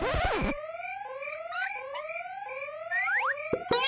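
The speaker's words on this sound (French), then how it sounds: "Il aimerait en montrer plus à Jenny, mais l'alarme s'est déclenchée." An electronic alarm wails in repeated rising sweeps, shrill and continuous, with a few sharp clicks near the end.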